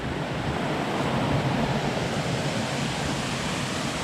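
Martin Creek Falls, a woodland waterfall in northeast Georgia, gives a dense, constant roar of falling water that stays close and loud without a break.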